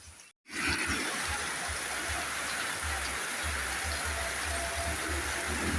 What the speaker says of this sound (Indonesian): keadaan pasar Panorama dalam keadaan hujan deras dan dilanda banjir